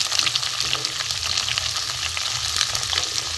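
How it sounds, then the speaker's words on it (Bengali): Mixed vegetables fry together in a pan with a dense, even sizzle and the scrape of stirring throughout: potatoes, beans, carrots, drumsticks, flat beans, pumpkin and eggplant. "সব একসাথেই আমি সবজিগুলো ভেজে নেবো"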